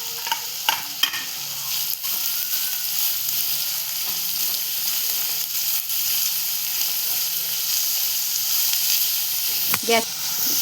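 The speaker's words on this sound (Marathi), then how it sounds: "इथे आता आपण कांदा परतवून घेतोय तांबूस कलर येपर्यंत घेणार होतो मिडियम गॅसवर ठेवलेलं आहे" Chopped onion sautéing in a pan over medium gas for chicken keema, a continuous even sizzle with a few stirring clicks and a louder scrape near the end.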